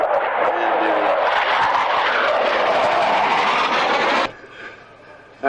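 A Hawker Hunter jet makes a low pass at an airshow, with a loud, broad engine roar that builds and holds before dropping away sharply, leaving a fainter whine and some background talk.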